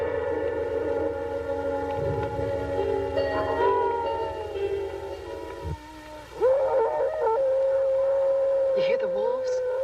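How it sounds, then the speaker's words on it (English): Wolves howling in a horror film about a werewolf in a girls' dormitory, long sustained wavering howls layered over one another, moderately distant and continuous, with a rising howl near the end. "You hear the wolves?"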